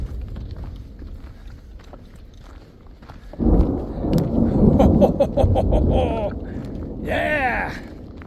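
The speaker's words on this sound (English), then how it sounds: "just saw some lightning hit the mountain there in the distance. Wait for it. Should hear a boom here in just a second." Far-off thunder rumbling through the Uinta mountains after a lightning strike, a low boom swelling in partway through and rolling on, with people talking over it.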